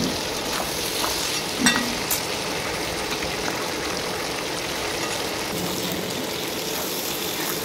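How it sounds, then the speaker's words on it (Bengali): Chicken scraps frying with spices in oil, stirred continuously to keep them from sticking, giving a dense, steady sizzle and hiss with occasional soft scrapes. "এটাকে ভালোর মধ্যে নাড়তে হবে, নয়তো তলে লেগে যাবে"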